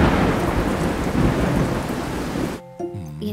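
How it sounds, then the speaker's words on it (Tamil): Heavy rain pours down with rolling thunder in a Tamil cartoon for kids, a loud, steady wash of noise that cuts off abruptly near the end, where a brief musical tone follows. "மழையும் கிழையுமா இருக்கு"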